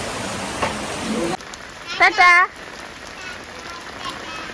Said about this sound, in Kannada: ಜೋರು ಮಳೆ ಬರ್ತಾ ಉಂಟು